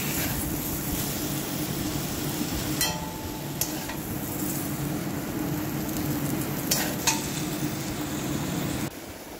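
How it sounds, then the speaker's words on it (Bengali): Pointed gourd frying in a small amount of oil in a pan, a steady low sizzle running throughout, with a few sharp clinks of a utensil scraping and stirring near the middle and end. "অল্প তেলেই কিন্তু পটলটাকে আমি লাল করে ভেজে নেব।"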